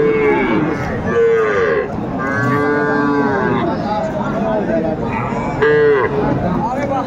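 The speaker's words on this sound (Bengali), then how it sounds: "ষাঁড় বাচ্চা।" Bull calves at a livestock market in Comilla, Bangladesh, moo loudly and repeatedly, several calls overlapping close by over a steady crowd murmur.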